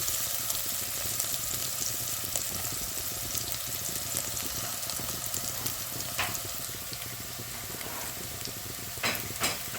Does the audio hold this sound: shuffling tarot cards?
no